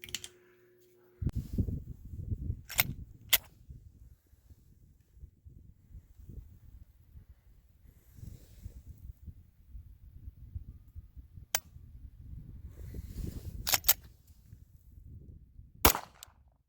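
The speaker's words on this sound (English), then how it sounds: "And that was the final firing because I haven't loaded up any more primers." Reloaded 9mm steel-cased rounds are fired outdoors in a few sharp, distant cracks spaced several seconds apart, with a quiet rustling background between shots.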